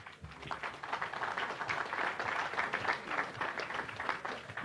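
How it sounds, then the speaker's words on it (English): Sustained applause from a crowd at the opening of the Agrifest agricultural fair, a dense, steady patter of many hands clapping for several seconds without a break. "That deserves a round of applause"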